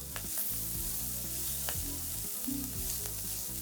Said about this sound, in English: And then we're gonna melt some more butter and add in some diced shallots, some jalapeno peppers